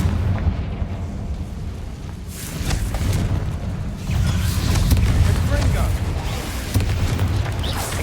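Confringo explosion spells cast in Hogwarts Legacy, a dense run of rumbling booms and bursts layered over continuous game noise and combat effects.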